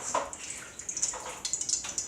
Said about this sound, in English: So I'm washing my eggplant,